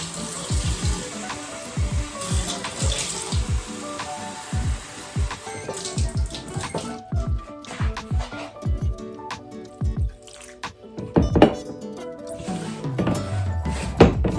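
Tap water runs steadily into a sink or bowl while bread dough is being made, a continuous close splashing wash with light clinks of dishes and handling noises mixed in.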